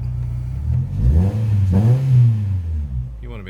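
A Peugeot 307 race car engine revs up and falls back several times, loud and close, with a throaty rising and falling drone and no talking.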